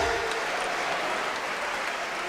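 A church congregation claps steadily at a sermon on spiritual drunkenness, a dense continuous applause with no talking.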